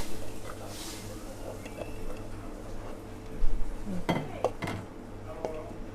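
Chilies are pounded in a mortar for papaya salad in a home kitchen abroad. After quiet background noise with someone talking, a few close, hard knocks and clinks land near the end.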